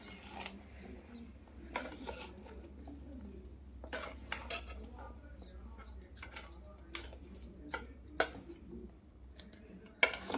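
A spoon mixes ginger pieces with cumin-fenugreek powder, salt and chili in a bowl, making a run of light clinks and scraping clatters in irregular bursts, close and fairly quiet, with no talking.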